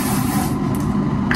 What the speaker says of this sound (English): To lightly spray the edges part